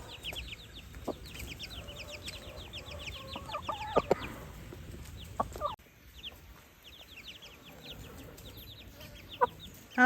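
Hens cluck steadily while many high chick peeps chatter around them on a homestead, with a few sharper squawks standing out from the busy farmyard noise.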